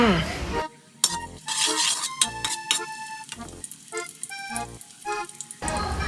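A utensil scrapes and clinks against a frying pan in short bursts while cooking Thai stir-fried shallot flowers with duck egg, with a soft sizzle of frying in between.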